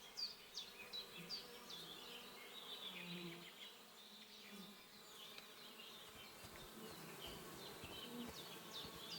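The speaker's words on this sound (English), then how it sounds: "Why do I hear bees?" Bees buzzing around a beehive in the game Kingdom Come Deliverance 2, a dense, continuous insect drone with wing flutters coming and going, moderately close and with no talk over it.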